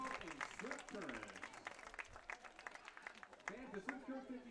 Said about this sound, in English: One more big round of applause for the dance studio in Swift Current